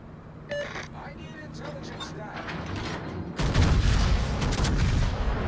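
A battleship fires a salvo in a naval warfare video game, heavy booming gunfire and rumbling blasts rolling loudly over a mechanical background, with the firing growing denser toward the end.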